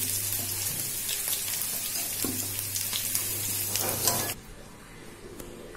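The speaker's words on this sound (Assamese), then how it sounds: "এয়া মোৰ আলুখিনি ফ্ৰাই কৰা হৈ গৈছে" Potatoes frying in hot oil give a steady close sizzle with faint stirring clicks, then the sizzle cuts away abruptly to a quieter room near the end.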